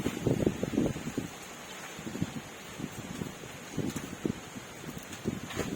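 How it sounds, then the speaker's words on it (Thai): Strong storm wind buffeting outdoors, gusting in uneven rumbling bursts against the microphone with a rushing, rustling hiss between gusts. "ลมพัดอย่างแรง พายุนะครับ เหมือนกับพายุเข้าเลยนะครับ"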